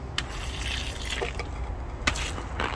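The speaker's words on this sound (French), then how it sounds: "un petit arrosage" Water poured over newly planted onion and garlic sets beneath a tarp, a steady soft splashing and gushing with a few sharper spatters, close by and fairly quiet.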